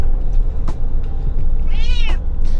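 A cat gives one short, rising meow inside a moving motorhome, heard close over a loud, constant road rumble and engine drone.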